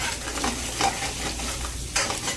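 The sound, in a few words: eggs being stirred and fried in a pan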